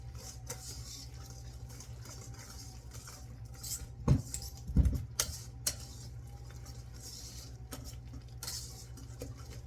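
A whisk stirs a strawberry parfait mixture in a bowl, giving soft scraping swirls and a few sharper clinks against the side, steady and close with no talking.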